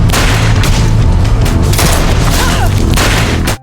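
Loud, chaotic gunfire: dense overlapping bursts and booms fill the scene continuously, with rapid shots rattling close by.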